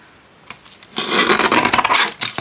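A blade or trimmer scrapes and rasps across the edge of a small handmade book, a close, dense rubbing sound lasting over a second after a faint tap.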